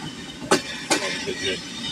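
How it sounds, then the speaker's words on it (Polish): A train pulling into Muszyna railway station, heard as a low rumble with two sharp clanks of wheels and couplings close by, while someone speaks over it. "Nie, to pociąg jedzie."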